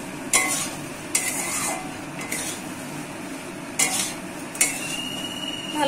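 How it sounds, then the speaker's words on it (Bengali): Spiced vegetables being stirred in a pan, with sharp scrapes and clinks of a utensil against metal recurring every second or so over a low steady sizzle. "ভালো করে মিক্স করে নিচ্ছি"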